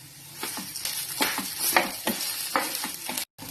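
Potato slices with turmeric sizzle in hot oil as a spoon stirs them, giving a steady fry hiss broken by soft scraping strokes, close up.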